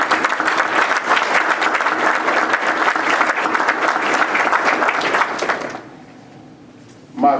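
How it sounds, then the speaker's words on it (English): Applause from an audience at a civic gathering of community and county leaders in Rockdale County and Conyers, dense and steady for several seconds before cutting off abruptly into quiet room tone, with a brief louder burst at the end. "Give them a wonderful round of applause."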